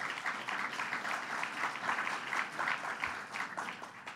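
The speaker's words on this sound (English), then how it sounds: "Let's give him a round of applause." An audience applauds at a governor's executive order signing event, a dense, sustained burst of clapping heard alone and fairly loud for several seconds.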